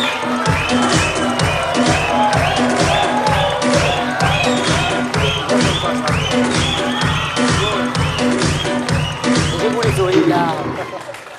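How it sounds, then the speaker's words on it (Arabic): Studio audience applauding for Rym Ghazali on an Algerian TV show, a dense, steady burst of clapping with cheering and crowd chatter running loud throughout, rising slightly near the end before cutting off. "ديرو تصفيق على ريم غزالي"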